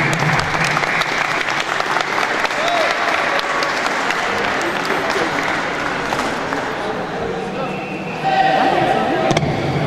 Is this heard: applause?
yes